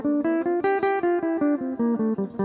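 A guitar plays a one-octave Dorian mode scale, a steady ascending run of single notes, each picked cleanly in an even rhythm, ringing bright and close with no voices.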